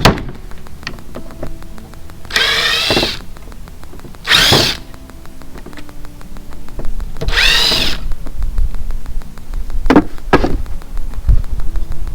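Power drill working on a latch fitted to teak woodwork inside a boat, whining in several short bursts with quieter gaps between, loud and close, no talking.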